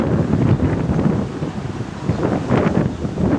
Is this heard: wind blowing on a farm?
yes